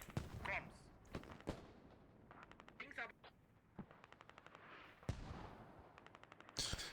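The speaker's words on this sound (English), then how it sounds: "there are mortars coming in, but they are just barely useful here currently" Mortar rounds land in Squad with scattered heavy booms, mixed with rapid bursts of automatic fire and distant shooting, while a commentator talks over the battle.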